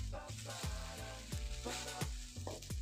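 Tomatoes frying in a pan with grated coconut, turmeric and salt, a soft continuous sizzle with faint stirring knocks, quiet and close, no talk.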